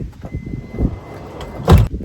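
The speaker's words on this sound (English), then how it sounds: "Step one, shut the door." A sliding door on a Toyota Sienna camper van conversion is pulled shut, giving one loud, close thud near the end after quieter rustling and handling noise.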